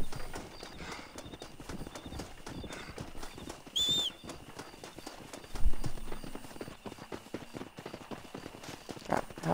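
A horse gallops in Red Dead Redemption, steady hoofbeats pounding at close range with a brief whinny partway through, under faint game ambience and no talk.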